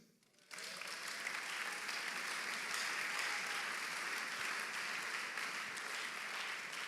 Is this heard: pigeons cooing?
no